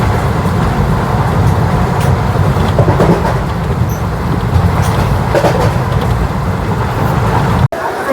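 Doon Express train pulling into Mughal Sarai station: a continuous loud rumble and rattle of carriages with station noise around, ending in a sudden cutoff.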